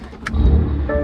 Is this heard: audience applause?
no